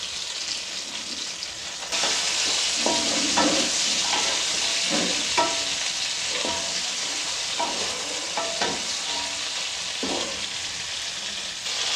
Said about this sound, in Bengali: বড়াটা কিন্তু বারবার নেড়ে রাখতে হবে যাতে করে পোড়া না লাগে